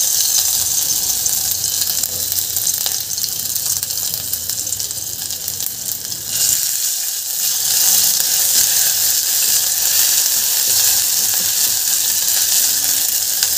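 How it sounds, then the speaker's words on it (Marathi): Ginger, garlic and chili paste sizzles in hot oil in a thick-bottomed pot, a loud, steady hissing fry that runs continuously, with a brief dip midway before the crackle returns at full strength. "तेल आपलं गरम झालं की यामध्ये आपल्याला आलं लसूण मिरची याची पेस्ट घालून घ्यायची"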